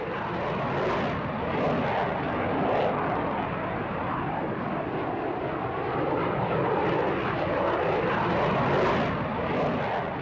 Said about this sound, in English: And here the Phantom demonstrates in a slow fly-past its naval antecedents.